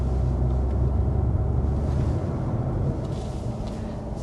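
A Lexus IS 350 F-Sport sedan with a V6, in sport mode, takes a corner with a steady, loud engine rumble and road noise heard from inside the cabin, fading slightly toward the end.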